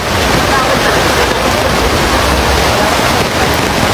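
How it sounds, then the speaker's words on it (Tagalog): Heavy rain pours down in a dense, steady roar of hissing noise, loud and close, with no break across the span. "Lakas na ng ulan guys."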